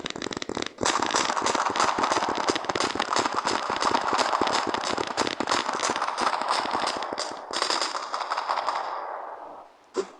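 Fireworks in the video game Firework Playground: a dense, loud barrage of rapid crackling firecracker pops for about eight seconds, then a short hissing fade before one final small burst.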